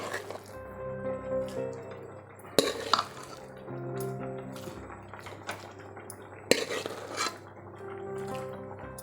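Cooked rice goes into a pot of boiled vegetables for kadambam and gets stirred, with soft scraping and clinking of a spoon against the pot, two sharper knocks standing out amid the quieter stirring.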